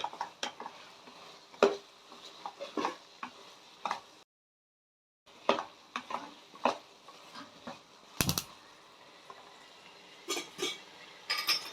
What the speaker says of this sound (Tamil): கேப்சிகம் சேர்த்து நல்லா வதக்கி விடுங்க.